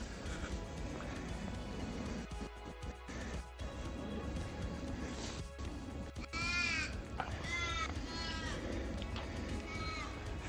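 A crow caws by the Parramatta River, a few rough, drawn-out calls at moderate distance rising over outdoor wind noise and faint background sounds.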